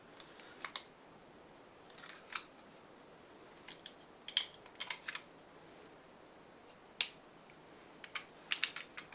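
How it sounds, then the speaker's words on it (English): Hard cured epoxy glue, set like transparent plastic, being cut: sparse sharp snips and clicks come at irregular intervals in a quiet room, close and fairly faint. "I have simply to cut this epoxy"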